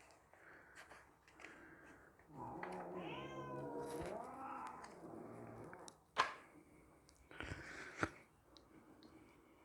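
Indoor cats interrupt the unboxing of an Elegoo Mars 5 Ultra 3D printer with a drawn-out, wavering meow lasting a couple of seconds, then sharp clicks and short yowls that follow amid quiet handling noises.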